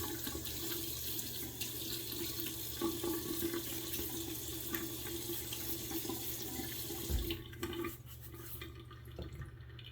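Bathroom tap running steadily into a sink while a face is wetted for shaving, a continuous close splashing stream with small water sounds, then the flow cuts off near the end leaving quieter drips.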